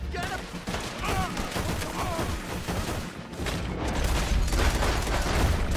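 Handgun fire from Red Dead Redemption 2 during a fight with a patrol, heard as steady overlapping shots in a noisy battle mix, medium loud and continuous, with some speech in the background.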